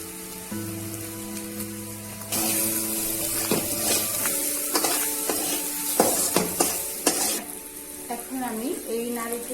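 Grated coconut mixed with turmeric drops into hot oil, setting off a loud, bright sizzle that crackles on over spatula stirring and clinks, preceded by a quieter humming start.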